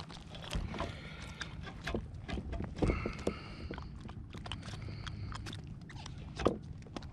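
A kayak being paddled on shallow coastal flats while fishing for bream: soft, irregular paddle splashes and water swishes close by, with faint knocks against the hull, under a quiet outdoor background.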